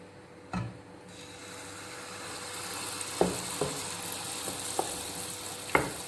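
Wheat flour appam batter hitting hot oil in a pan gives a steady soft sizzle that swells gradually, broken by a few sharp faint clicks and taps of a utensil; quiet overall with no speech.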